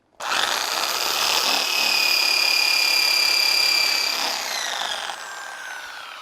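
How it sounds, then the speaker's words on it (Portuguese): A power drill with a half-inch bit bores a hole into a small wooden log prepared for shiitake mushroom growing. It gives a loud, steady, high-pitched whine for about five seconds, then winds down, with no voices. "tendo a broca, a furadeira em mãos, nós marcamos na nossa torinha"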